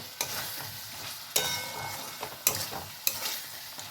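Fried potatoes being stirred into a sizzling spice masala in a pan, with a steady hiss of frying broken by four or five sharp scraping strokes of the spoon.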